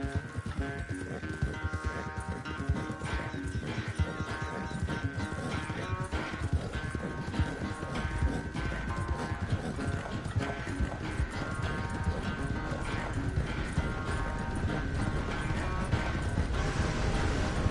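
Horse galloping in Red Dead Redemption 2, a fast, steady run of hoofbeats close and loud, with creaking tack and light mechanical rattles over a continuous background.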